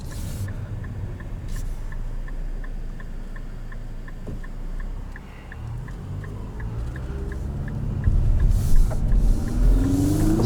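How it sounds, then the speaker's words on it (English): A 2022 Infiniti QX55 is driven at full throttle, its engine droning steadily from inside the cabin and working up through the gears, then swelling louder with a rising pitch toward the end. "So as I floor the accelerator, you can hear that transmission's going to select the optimal ratios, work its way through them, and provide peak power"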